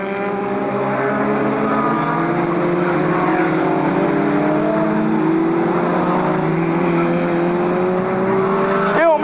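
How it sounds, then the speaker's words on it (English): Trailer race cars circle Fleet Raceway with a continuous engine drone whose pitch rises and falls as they pass, loud and steady throughout, with a race commentator talking over it. "Meekins setting a blinding pace in 47. Vince Foley trying all he can to close up in the 12 car"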